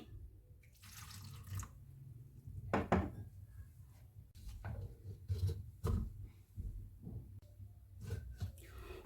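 Chickpea cooking water pours into hummus blended with chickpeas, garlic, lemon juice, salt and tahini paste, a soft watery splashing and trickling in bursts with scattered drips, close and fairly quiet.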